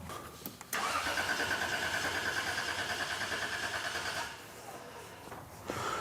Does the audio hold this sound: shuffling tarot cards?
no